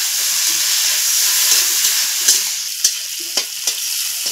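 Chopped onions with black cumin seeds fry in hot oil, a dense steady sizzle close by with a few sharp clicks and scrapes of stirring, no voices.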